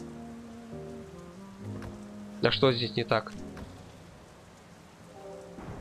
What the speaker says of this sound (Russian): Неужели дождик пошел?